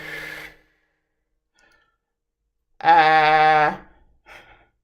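A slow exhalation during a voice exercise: a brief breath at the start, then a sustained, voiced outbreath lasting about a second, with a faint puff of air after it. It is close and clear, with silence around it.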